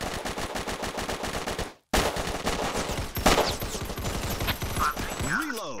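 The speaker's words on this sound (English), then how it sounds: "I'm gonna do blind firing, man." Rapid automatic gunfire from the VR shooter game Crisis VRigade 2 rattles in dense, loud bursts that run almost nonstop, with one brief silent break near the two-second mark before the firing resumes.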